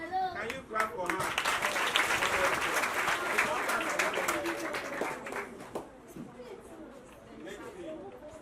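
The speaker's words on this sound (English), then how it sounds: "Can you clap for her?" An audience claps at a CPR and choking first aid awareness session, a burst of dense applause with chatter that builds quickly and then fades into scattered claps and murmuring.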